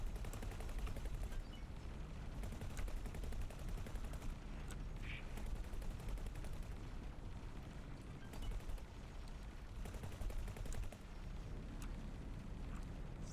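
Gunfire from ships in the X4: Foundations space game: a dense, continuous rattle of rapid shots and rumbling blasts, steady and fairly faint throughout, with no voices.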